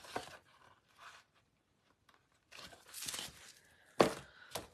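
Scissors cut pieces of basic beige material in quiet, scattered bursts of crisp snipping and rustling, with brief pauses between them and one sharper crunch near the end.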